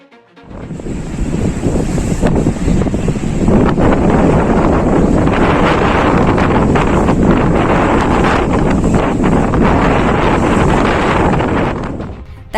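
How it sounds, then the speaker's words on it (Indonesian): Strong storm wind in Turkey roars continuously, buffeting the microphone with a loud, rushing noise that hardly lets up for the whole stretch. "Hujan badai terjang Turki."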